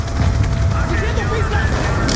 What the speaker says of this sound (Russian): Это взрывчик